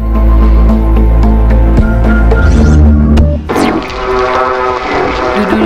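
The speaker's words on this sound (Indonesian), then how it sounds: "Ternyata ini adalah rekaman suara ikan melalui penelitian di perairan Australia selama 18" Underwater recording of fish sounds from Australian waters: a loud, steady droning hum with many harmonic tones, a buzzing, machine-like layer that shifts partway through with a brief chirping sweep, close and continuous without talk.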